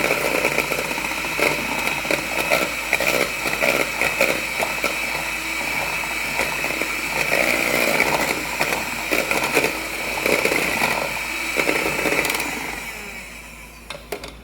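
An electric mixer running at high speed whirs steadily through cheesecake batter of cream cheese and sugar. The motor drone is close and continuous, with small fluctuations as the beaters move, and it fades out at the end.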